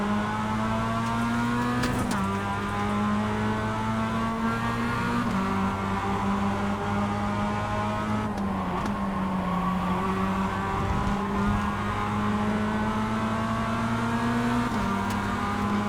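Mazda MX-5 Cup race car engines at Okayama in a sim racing game, several cars running three wide, a steady loud drone of revving engines with pitch shifting through gear changes, no talk.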